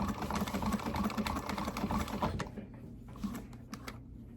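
A domestic sewing machine stitches a small V on a dress pen pocket, rapid rhythmic needle clatter running steadily, then stopping and giving way to a few separate clicks and short bursts at close range.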